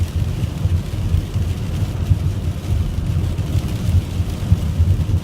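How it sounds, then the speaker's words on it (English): Heavy rain drumming on a moving Dodge van, a dense continuous wash of noise layered with low road and engine rumble inside the cabin, steady throughout. "It's raining fairly good here."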